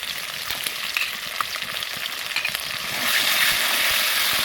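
A paste of ground coriander, cumin, ginger and dried chili fries in oil in a pan, producing a dense, continuous close-up sizzle that swells slightly louder toward the end, with no voices.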